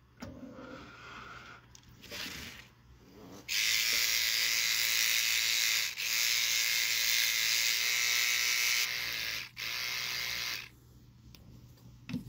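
Electric toothbrush buzzing in a small 3-gallon aquarium frag tank as it scrubs algae, a loud sustained whir in several bursts separated by brief pauses, close to the microphone.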